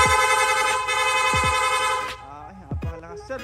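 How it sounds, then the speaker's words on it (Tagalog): A rapid aftermarket horn on a Yamaha Sniper 155 motorcycle blares a loud, continuous tone for about two seconds, with quick stuttering breaks. Clicks and shorter horn bursts follow. "Nag-install din tayo ng rapid horn. Long press lang po natin yung horn switch, yung busina natin."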